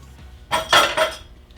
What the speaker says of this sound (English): I'm going to get rid of my spatula